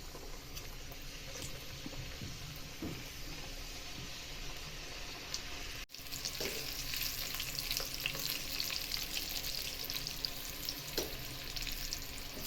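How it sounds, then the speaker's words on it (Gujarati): Namak para, crisp strips of wheat and maida flour dough, fry in hot oil with a steady bubbling sizzle. The frying runs continuously and close, growing denser and brighter partway through, with occasional stirring clinks. "હવે તેલ પણ નમક પાળા એડ કરીશું"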